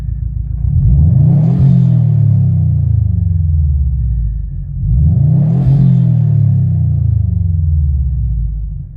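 A 2014 Subaru WRX STI with its 2.5-liter EJ boxer engine and unequal-length headers, loud and close, revving up twice in long swells with a deep throaty rumble, each rise falling back before building again.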